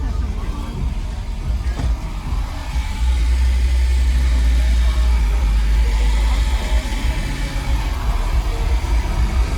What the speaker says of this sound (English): Wow, that's a big motor.